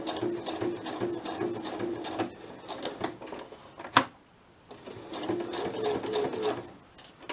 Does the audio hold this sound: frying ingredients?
no